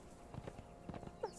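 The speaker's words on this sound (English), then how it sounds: "This is fun, horseback riding." Horse hooves clip-clopping in the video game Conan Exiles during horseback riding, a few soft, uneven thuds at moderate distance over a quiet game background.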